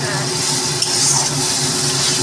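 Mustard and green chilli paste is stirred in a frying pan over a steady sizzle, with a light scrape and a small clink of the utensil against the pan.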